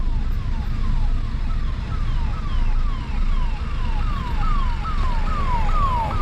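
An ambulance siren wails in a fast, repeating rising-falling pattern over heavy road rumble, sustained and fairly loud throughout.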